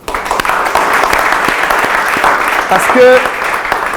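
Audience applause fills a hall at an organisation's headquarters, a dense, steady clatter of clapping that holds for the whole stretch while someone speaks over it.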